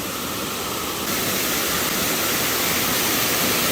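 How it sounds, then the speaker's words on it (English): Loud, constant rushing water roars close by at the bottom of a waterfall in South Mountains State Park, North Carolina, a dense broadband wash with no pauses and no voices. "I'm sure you can hear that rushing water."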